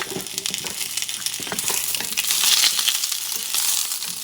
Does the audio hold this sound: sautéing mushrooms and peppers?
yes